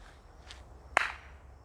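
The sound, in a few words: hand claps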